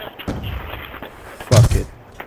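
Gunfire in a video game gun game: a few sharp shots ring out, one heavy, booming blast standing above lighter pops and background game noise, close and loud.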